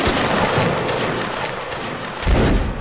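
A massed line volley of muskets in a Napoleonic line-battle game, a broad dense roar of overlapping shots that stays loud and sustained throughout, with a heavier burst near the end.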